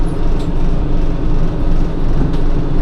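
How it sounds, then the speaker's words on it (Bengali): Vande Bharat sleeper train pulling out of Katwa Junction, a steady loud low rumble and rolling noise throughout with no clear horn, heard from on board. "আমাদের ট্রেন কিন্তু এই ছেড়ে দিল কাটোয়া জাংশন।"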